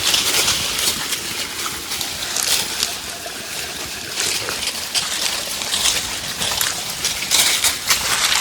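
An electric water pump motor runs, sending water out for a flock of sheep, heard as a steady, continuous rushing and trickling flow that stays fairly loud and unbroken throughout.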